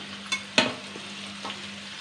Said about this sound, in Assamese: এয়া মই পিঁয়াজখিনি ভাজি আছোঁ